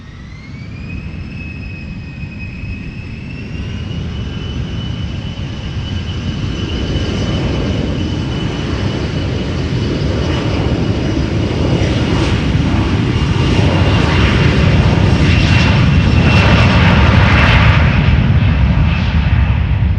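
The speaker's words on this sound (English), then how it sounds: "So this is SAS flight 548 outbound Copenhagen." A seven-year-old SAS passenger jet, first flown in 2016 and bound for Copenhagen, takes off from runway 36L at Amsterdam Schiphol. Its engine roar builds steadily from a whining hum into a loud, broad rumble, heard close and without speech.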